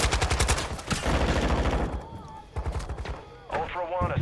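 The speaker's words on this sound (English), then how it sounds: "that was a sniper that shot me" Sniper rifle shots and other gunfire in Call of Duty: Modern Warfare on the Al Mazrah map, sharp loud reports in quick bursts with game noise under them.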